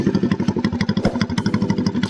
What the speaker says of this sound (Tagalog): So dala ko yung motor ko, ayan.